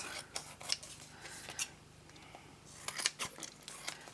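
Scissors trimming patterned scrapbooking card paper, a series of soft close snips and rustling paper handling, scattered irregularly with a small cluster of cuts near the end, fairly quiet and without speech.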